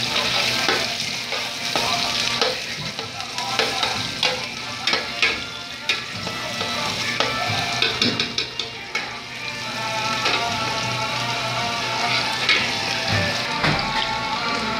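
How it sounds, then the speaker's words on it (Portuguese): Onion sizzles and fries in a pan for shrimp broth, a steady crackling hiss broken by repeated scraping and stirring strokes close by. "Vamos dar uma empolgada na cebola. Deixa ela dar uma dourada."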